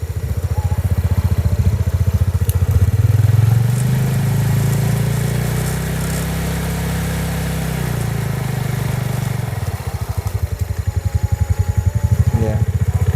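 Motorcycle engine driving a water pump, revved hard so the steady idle rises into a loud, sustained roar for several seconds before dropping back to a lower throb, heard up close.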